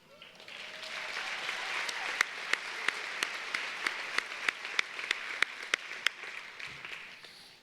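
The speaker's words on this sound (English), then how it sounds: "one last round of applause for our salutatorians and valedictorians" A graduation ceremony crowd for an early college and teen parent program gives sustained applause for salutatorians and valedictorians, steady clapping throughout with several sharp, louder claps standing out near the front.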